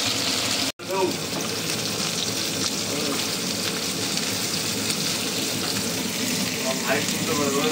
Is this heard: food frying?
yes